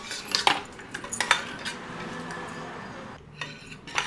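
Lentil dal in a pot, salted and being mixed, with a metal spoon or ladle scraping and clinking against the pot in scattered bursts, near and fairly quiet, with no one talking.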